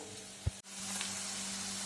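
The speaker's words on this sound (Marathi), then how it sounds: "हा बघा, मंद आचेवरती कांदा पिवळसर तांबूस रंगावरती भाजलेला आहे" Onion frying in oil in a pan over a low flame, for a chole curry, gives a steady soft sizzle throughout, with a brief thump and a momentary dip early on.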